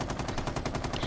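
Light machine gun fire in a video game: a rapid, steady automatic stream of shots, loud and continuous throughout, with no voices.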